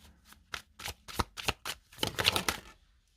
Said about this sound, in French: Il faut que je remette une carte dessus.